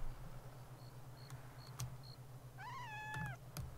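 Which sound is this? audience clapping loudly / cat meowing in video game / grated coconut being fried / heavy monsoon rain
cat meowing in video game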